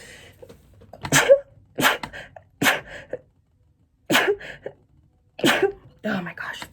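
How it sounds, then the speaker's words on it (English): One person sneezes and splutters repeatedly, with sharp, close, breathy bursts separated by short silences and mixed with vocal sounds. "oh, I'm gonna sneeze."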